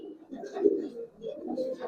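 A female old-breed Giribaz pigeon gives soft, low cooing phrases in two short bouts, close and fairly quiet, with no talking.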